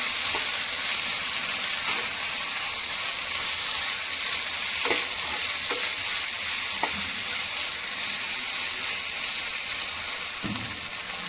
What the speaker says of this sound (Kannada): ಸ್ವಲ್ಪ ಗರಂ ಮಸಾಲ ಪೌಡರು ಎಲ್ಲನೂ ಹಾಕಿದ್ಮೇಲೆ ಚೆನ್ನಾಗಿ ಇದನ್ನು ಬಾಡಿಸ್ತಾ ಇದ್ದೀನಿ